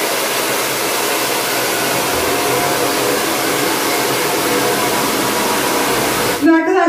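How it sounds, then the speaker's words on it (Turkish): A hair dryer blows steadily on damp hair, a loud continuous airy roar running unbroken for several seconds before cutting off abruptly near the end. "Arkadaşlar fönü nemli saça çekiyorum."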